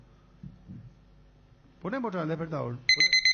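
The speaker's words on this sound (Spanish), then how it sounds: "Ponemos otra vez el despertador." An alarm clock starts ringing with rapid, bright electronic pulses right after a person speaks, cutting in loud and close at the very end.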